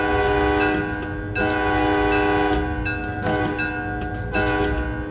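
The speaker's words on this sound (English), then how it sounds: "I also want to hear the horn too." Locomotive horn in the Train Sim World 3 railway simulator on the Northeast Corridor between New York and Trenton, a loud sustained multi-tone chord blown in several long overlapping blasts, close and alone without talk.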